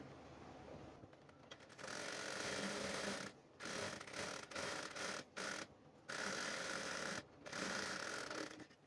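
A sewing machine stitches on a work blouse in stop-and-start runs, a close mechanical whirring that breaks off briefly several times with short silent gaps between bursts.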